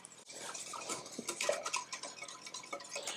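Enchilada dip mixture being stirred in a bowl, with soft utensil scrapes and light clinks in a quiet, irregular rhythm, close by and fairly faint, with no talking.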